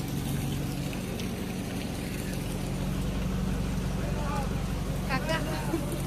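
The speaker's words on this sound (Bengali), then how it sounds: "আমাদের লঞ্চ ছেড়ে দিয়েছে" The engine of a passenger launch on a Sundarbans river trip drones in a low, steady hum throughout, with people talking and voices faintly over it.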